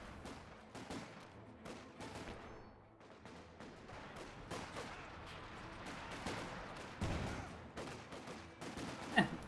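Repeated gunfire and heavy weapon blasts from a le.IG infantry gun and battle in Company of Heroes 2, a steady barrage of sharp reports of varying loudness with one louder crack near the end.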